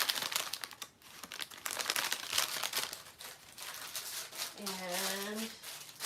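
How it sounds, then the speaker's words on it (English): Faux rice paper made from a napkin crinkles in close, dense bursts of crackling, with a voice briefly heard over the rustling near the end. "this one was made out of a napkin, and you can hear how crinkly it is"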